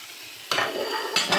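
Flour tipped into melted butter in a hot pan for a mac and cheese sauce, giving a sudden close hiss and rustle that settles into a steady sizzle, with a second brief burst near the end; no talk.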